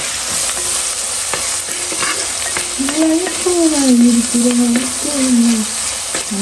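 Sautéing and stirring in a clay pot for a fish curry brings a continuous close sizzle with scattered stirring taps, while a voice sings a short melodic line partway through.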